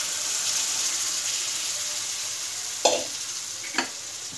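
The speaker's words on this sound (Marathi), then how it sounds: "आता यामध्ये आपण हे शिजवलेलं चिकन आहे ते यामध्ये घालूयात" Cooked chicken being stirred into spicy masala in a pan for chicken rassa: a steady sizzle and frying hiss throughout, with two sharp scraping stir strokes near the end.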